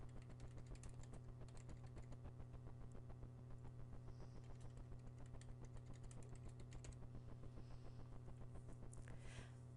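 Keys clatter in a steady, continuous run of typing on a computer keyboard, each keystroke a soft close click over a low constant hum, with no voices.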